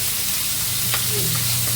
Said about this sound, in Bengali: মাছের মাথা একটু ভালো করেই ভেজে নিচ্ছি আর পেঁয়াজটা ভেজে নিচ্ছি